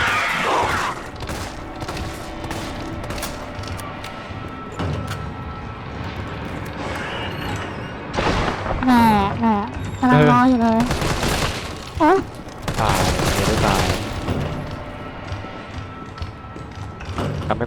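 Gunfire against an enemy in Resident Evil 3 Remake, bursts of shots and thuds rising in the middle and later stretches, mixed with game music and effects under excited conversation.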